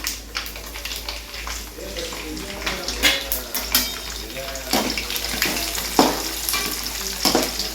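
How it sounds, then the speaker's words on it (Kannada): Urad dal and mustard seeds fry in oil in a pan for temple-style puliyogare, a close crackling sizzle broken by irregular scraping and clinking of a stirring spoon, with no voices. "ಸ್ವಲ್ಪ ಫ್ರೈ ಆಗಬೇಕು ಒಂದು ಸ್ವಲ್ಪ ಚೆಂದಗೆ"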